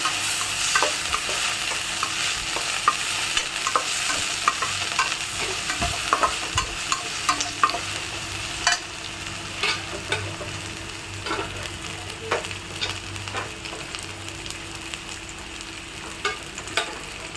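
Greens sautéing in hot oil with a steady sizzle while a ladle stirs and scrapes the pan in irregular knocks and clinks, close and alone with no talk.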